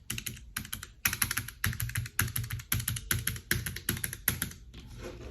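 Typing on a Keychron K3 ultra-slim wireless mechanical keyboard, close and fairly quiet, in quick bursts of crisp key clicks separated by short pauses, with a softer patch at the end, no talking.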